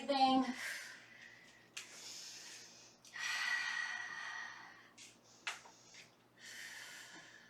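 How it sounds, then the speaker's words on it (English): Heavy breathing during a stretching exercise in a strength-training workout, with rotations opening up the chest; breathy sighs and exhales recur steadily across the stretch, fairly close and soft, with no clear talk over them. "breathing."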